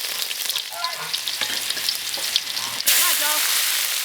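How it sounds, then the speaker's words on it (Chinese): Ginger and garlic dropped into hot oil in a wok, giving a softer sizzle with a few voice-like sounds at first, then a sudden loud burst of frying hiss that stays strong to the end. "油温烧热，先下姜蒜"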